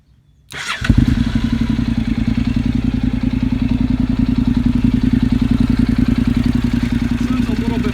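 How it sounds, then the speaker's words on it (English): After a moment of quiet a 2013 Honda NC700X with a new aftermarket exhaust fires up, then settles into a loud, deep, throaty idle with a steady rapid exhaust pulse, close by. "I'll let you guys hear the new exhaust here right now"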